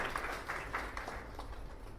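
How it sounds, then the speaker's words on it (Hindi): An audience claps for a veteran vehicle mechanic at a network marketing meeting, faint, scattered handclaps from a crowd that continue briefly. "ताली बजाइए लखनलाल जी के लिए।"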